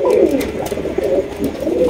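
Yellow muffed helmet pigeons coo in repeated throaty, rolling calls, loud and close, with the cooing pulsing continuously.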